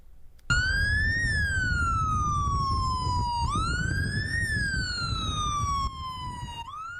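A loud police siren wails close by in slow rising and falling sweeps during a funeral procession, repeating steadily over a low engine rumble.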